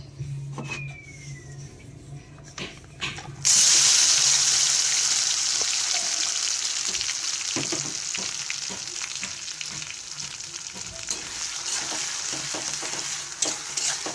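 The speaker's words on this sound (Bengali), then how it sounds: "দেখুন তেলে আমি এগুলোকে ভালো করে নেড়ে দিচ্ছি" Cauliflower leaf paste hits hot oil and bursts into a loud, close sizzle that settles into continuous frying hiss with repeated stirring scrapes, following a quieter opening.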